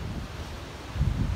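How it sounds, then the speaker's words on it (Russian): Strong wind blowing on a snowy winter shore of the Sea of Azov at Kuchugury, a brief low rushing roar with surf-like swells, no voices. "Ветер хороший."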